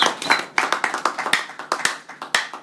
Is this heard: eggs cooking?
no